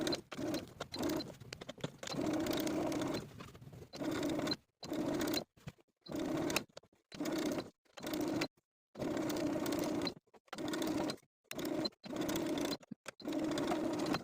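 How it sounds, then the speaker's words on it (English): A sewing machine understitches the facing of a ruffle-sleeve summer top's neckline, running in repeated bursts of steady whirring broken by short pauses, close and fairly loud with no talking. "sew the facing to its seam allowance all the way from center back to center back"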